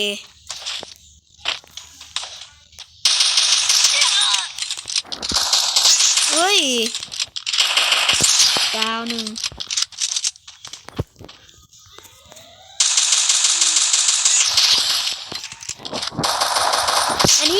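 Gunfire from a shooting video game comes in sharp bursts separated by gaps, loud and close with clattering metallic rattles, while someone talks excitedly between shots.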